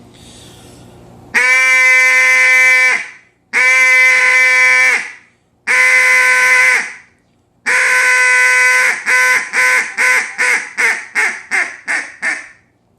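Loud, raspy turkey yelps from a hand-held turkey call played with an open hand: several long drawn-out notes, then a quick rhythmic series of shorter yelps, close and clear.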